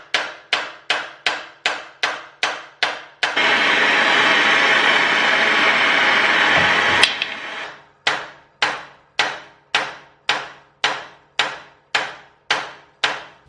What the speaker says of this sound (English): And then we can get a hammer and hit that out.